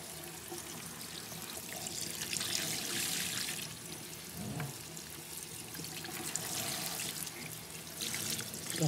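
Water pours and splashes steadily into a sink as it drains from crawfish, a continuous gushing wash with small shifts in flow and no voices.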